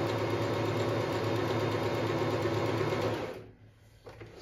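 A Pfaff smarter 140s sewing machine running a decorative zigzag stitch program, a fast steady mechanical whirring and needle rattle up close that stops abruptly near the end, followed by faint clicks.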